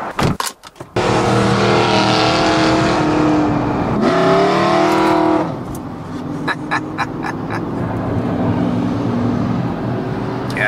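A BMW M5 with a V10 engine drones steadily and loudly from inside the cabin while driving, with a brief rise in pitch and swell midway before settling back to a lower, even hum with faint clicks.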